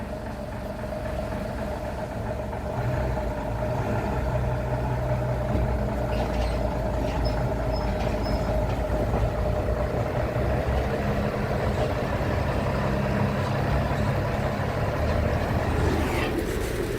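Two diesel locomotives, one large and one small, idle side by side on adjacent tracks, a steady low rumble with a constant mid hum running throughout, close and unbroken.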